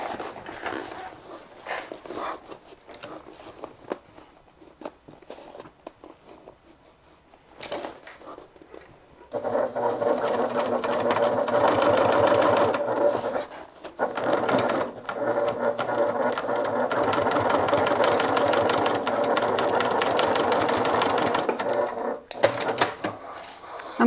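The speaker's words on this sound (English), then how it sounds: "we're going to stitch these in place using a 1/2 inch seam allowance" A sewing machine runs steadily, stitching the seams of a designer-style bag with a half-inch seam allowance. It is loud and continuous through the second half, after a quieter, sparser opening.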